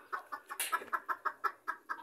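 A broody hen with her four chicks clucks in a steady run of short, soft notes, close by, with a brief higher chirp or squawk partway through.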